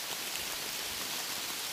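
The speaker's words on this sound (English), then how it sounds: "It's pouring." Heavy rain pours down on a wooded Appalachian Trail stretch in Maine during a storm, a dense, steady hiss of drops close by with no break.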